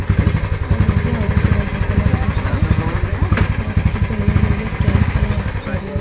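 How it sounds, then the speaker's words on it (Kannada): A motorcycle engine runs steadily with a pulsing, clattering beat, close and fairly loud, as the bike is ridden back home after a test ride. "ಟ್ರೈ ಮಾಡಿಸಿ ಬೈಕ್ ವಾಪಸ್ ತಗೊಂಡೋಗ್ತಾರೆ."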